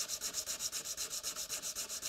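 Rust is rubbed off the outside of garden shears in quick, regular back-and-forth strokes, a close, rhythmic abrasive scratching with no voices.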